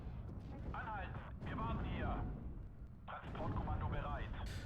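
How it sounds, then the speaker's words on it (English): Artillery in Steel Division: Normandy 44 pounds a bunker area as a continuous low rumble of distant blasts, running beneath a voice. "they are just bombarding a lot the bunker area with artillery"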